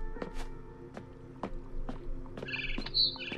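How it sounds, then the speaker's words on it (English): Barn swallow chirping in the game What Remains of Edith Finch, with short, thin chirps scattered through the clip and a few brighter, higher calls toward the end over a low steady background hum. "Then I heard chirping outside my window."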